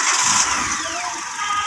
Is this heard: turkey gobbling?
no